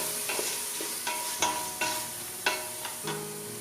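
Tomatoes frying in a pan are stirred with a spoon during home cooking, a soft steady sizzle with several scraping strokes against the pan at an irregular pace, close and fairly quiet.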